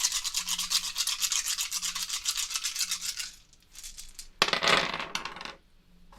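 Board game dice for Dice of Arkham are shaken in a steady, rapid rattle for a few seconds, then tossed onto a table with a loud clattering tumble before stopping, close by with no talking.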